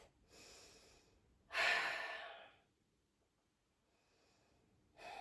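Slow, deep breaths during a yoga pose: a soft inhale, then a stronger sighing exhale, and another breath beginning at the end, all close and quiet with no talk.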